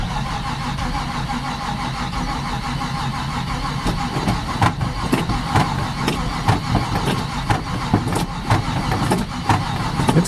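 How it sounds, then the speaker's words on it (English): A cold engine in a Chevy K10 or Jeep Cherokee XJ cranks slowly on a weak battery, a loud, close, labored churning with rough rhythmic pulses that grow uneven toward the end. "It's cranking pretty slow. I don't think that battery's too happy."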